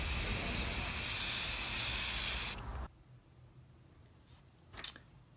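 Spray paint hisses loudly and steadily onto a toy foam blaster for about two and a half seconds, then cuts off, followed by quiet handling sounds and a short knock.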